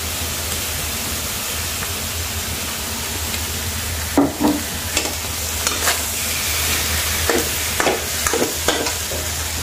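Fish roe stir-frying in a pan with fish sauce and oyster sauce gives a steady broadband sizzle, with a few sharper scraping stir strokes near the middle and toward the end.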